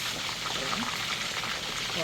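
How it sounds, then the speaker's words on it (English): Turkey pieces deep-fry in a pot of hot oil for Nigerian jollof rice cooking, a loud, steady close sizzle and crackle running under a person talking. "So you can see the turkey is still frying there."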